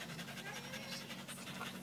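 A Siberian husky pants steadily and close up on an outdoor hike, a quick rhythmic breathing with no talk over it.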